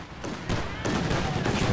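Machine gun fire in a Company of Heroes 2 battle comes as dense, rattling bursts that build in loudness over a couple of seconds, with a voice faintly underneath.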